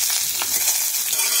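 Whole cumin, dried chilli and bay leaf sizzling in hot mustard oil in a pan, a close, bright crackle and hiss running continuously with small pops and stirring scrapes.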